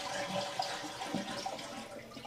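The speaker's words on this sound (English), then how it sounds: "So just flush out all the water that's in there" A toilet flushed to drain its tank, water rushing and gurgling steadily throughout, fairly close and continuous with no voices.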